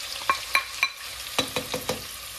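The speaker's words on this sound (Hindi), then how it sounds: "अच्छा, अब ये इसमें क्रैकलिंग स्टार्ट हो गई है।" Hot oil crackling around small onions frying in a pan for fish curry in green masala, with a series of sharp pops and stirring clatters over a soft steady sizzle, close and alone.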